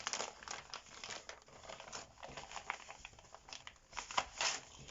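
Plastic wrapping crinkles and crackles up close in irregular bursts as a package is opened, rustling continuously for several seconds with no talk.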